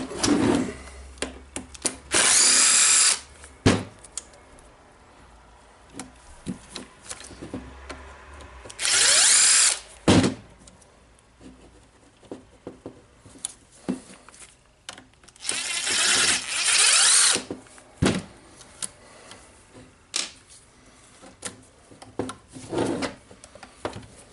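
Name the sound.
power drill removing screws from Dewalt nailer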